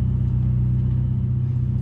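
Deep, even idle rumble of a Ferrari 488 Pista engine, loud and close, holding steady with no voices.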